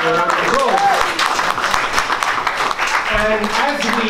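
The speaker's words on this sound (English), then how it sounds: "give me a round of applause." Loud, continuous round of applause from an audience at a celebration honouring an 85-year-old professor's life work, steady dense clapping with cheering voices and talk mixed in throughout.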